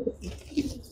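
A racing pigeon from Handewadi gives two low, throaty coos about half a second apart, close and moderately quiet.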